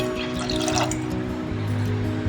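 Vinegar water with a drop of yellow food colouring poured into boiling milk to split it for chhena, a close, brief liquid pour and bubbling over a low humming background.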